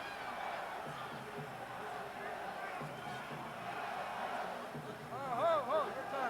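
A boxing crowd roars and cheers at an Axel Schulz versus Michael Moorer fight, a broad continuous swell of voices with a commentator talking over it and louder shouts near the end.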